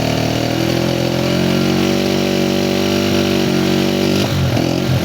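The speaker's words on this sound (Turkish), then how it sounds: "Bak boğulmaya bak duydunuz mu?" A Yiben YB 50cc motorcycle engine chokes and sputters, a loud steady buzzing drone that falters and wobbles near the end as it struggles, close up with no talk.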